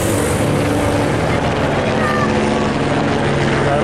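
Helicopters flying over a roadside stretch of the Omloop Het Nieuwsblad cycling race make a loud, steady rotor drone filling the whole stretch, with roadside spectators speaking over it.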